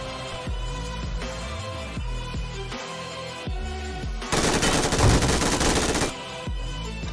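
Gunfire in a battle royale shooter game: a dense, loud burst of rapid shots lasting about two seconds near the middle, set against game music and ambient sound before and after.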